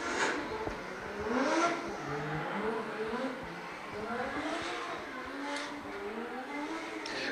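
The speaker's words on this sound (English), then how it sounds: "as he powers out of the final turn, down the front straight, and brings that S15 to a stop" A Nissan S15 drift car powers out of the final turn at Baypark Stadium during D1NZ drift qualifying, its engine rising and falling in repeated revs over steady crowd and track noise, with commentary talking over it.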